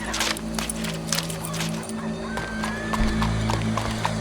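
Horse whinnies and hooves clip-clop in a Red Dead Redemption 2 game scene, with steady hoofbeats, a rising neigh and a low background drone throughout.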